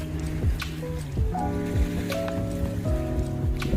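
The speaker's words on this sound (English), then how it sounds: "About the water, crush the rocks. So this sound, I like it." Sea water splashes and crashes against shoreline rocks near the Kuwait Towers, a steady close wash of surf with repeated surges, with low tonal hums running underneath.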